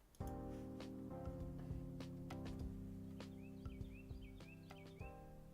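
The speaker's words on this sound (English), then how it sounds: "You hear the birds out there." Birds chirp outdoors in a short series of faint, high calls over roughly two seconds, heard through a steady tonal hum in a room where saltwater flies are being tied.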